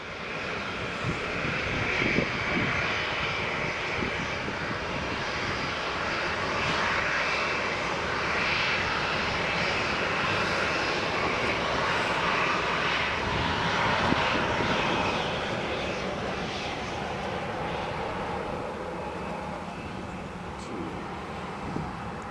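A plane taking off from runway 14 at Leeds Bradford Airport, its engines producing a sustained roar that swells and fades with wind buffeting the microphone, heard from a distance.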